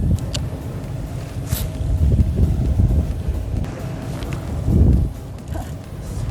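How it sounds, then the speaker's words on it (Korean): Wind buffets the microphone on a small boat out at sea during octopus fishing in rough, rainy weather, a low rumbling gusty roar that swells and eases with faint knocks and rustles. "계속 비 오고 바람 불고 너울 치고 막 이러는데"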